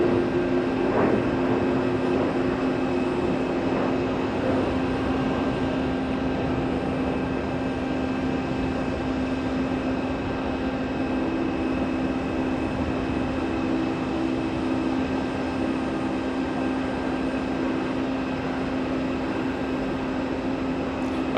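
A Saudia airliner in retro livery at JFK airport, with a steady, broad jet engine roar holding at a constant level throughout, distant and continuous, with no voices.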